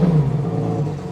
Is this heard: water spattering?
no